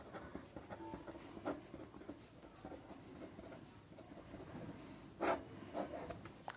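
Pen writing on paper while working through a differential equations integration problem, scratching faintly in short irregular strokes with a couple of louder scrapes near the end, no voice.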